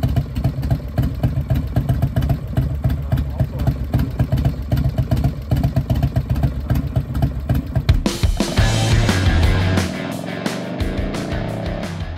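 An old Harley-Davidson motorcycle engine idles while running rich, a loud, close, lumpy rhythmic chug for about eight seconds before louder, mixed clattering noise takes over.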